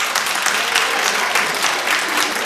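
A studio audience at a daytime talk show breaks into loud, sustained applause, dense clapping filling the room evenly throughout.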